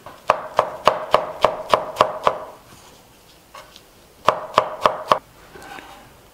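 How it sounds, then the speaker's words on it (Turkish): A knife chops a small bunch of parsley leaves finely on a board for köfte. Two bursts of quick, evenly spaced, crisp thuds ring out close and clear, separated by a short quiet pause. "küçük bir demet maydanozun yapraklarını ayırdım ve küçük küçük doğrayarak maydanoz yapraklarını da ekleyeceğim."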